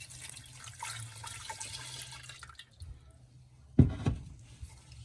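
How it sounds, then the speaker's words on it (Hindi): Milk poured into a pan of sautéed mixture for a creamy chicken pasta sauce, a gentle trickling splash that fades, then a brief louder clunk or splash near the end, close, no talking. "अब इसको मैं दूध को साथ साथ ऐड करूँगी"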